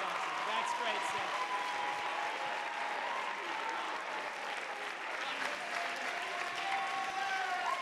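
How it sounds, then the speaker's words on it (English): Audience at a school talent show applauds with steady, sustained clapping that fills the room, and voices are heard faintly within the applause. "Give it up for Sid one more time"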